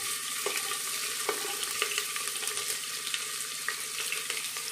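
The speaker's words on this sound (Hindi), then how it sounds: "हुण असीं इहदे विच पावांगे प्याज" Cut onions for a mutter veggie rice pulao sizzle steadily in a pan, a dense continuous frying hiss with a few sharp stirring clacks at intervals, close and fairly loud throughout.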